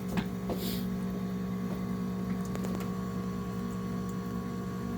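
A steady mechanical hum with a low tonal drone runs throughout, faint clicks and ticks scattered over it, from a Panasonic Aquarea outdoor heat pump unit running its defrost cycle.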